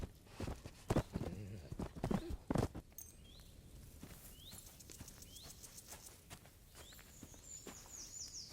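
Steady clip-clop of horse hooves walking at an even pace in the video game Kingdom Come: Deliverance 2, crisp and close, with a few faint chirpy tones in the background.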